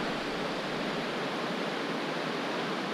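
Rio Grande river flowing beside a spring at river level, a continuous broadband rush of moving water, steady and fairly close, with no voices or other sounds.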